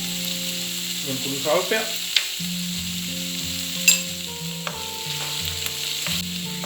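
Bacon and egg fried rice sautéing in rendered bacon fat, a steady sizzle and occasional stirring scrapes under background music, with a brief spoken phrase.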